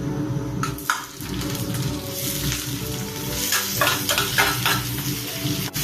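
Pickled mustard greens and dried chili sizzle and crackle steadily as they are stir-fried in a wok, with spatula scrapes and clinks against the metal over a continuous frying hiss.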